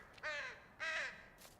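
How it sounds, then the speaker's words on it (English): A crow caws twice in the woods of the game A Walk in the Woods, two loud harsh calls about half a second apart, with a fainter third note at the end. "Birds are loud."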